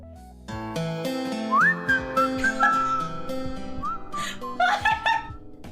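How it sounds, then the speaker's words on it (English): Josh Hutcherson whistle meme recording played back: a bright, sliding melodic whistle over a steady background tune, with brief chuckling mixed in, fairly loud and close. "Josh Hutcherson Whistle Original HD?"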